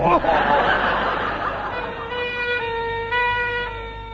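A two-tone ambulance siren sound effect in a radio comedy sketch sets in after a burst of laughter and chatter, its steady alternating tones stepping between pitches for the last couple of seconds.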